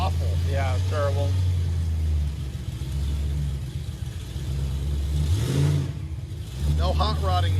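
Chevrolet Impala engine on a test drive, a deep rumbling idle swelling into several revs with throttle blips, close and loud, while people talk over it inside the car.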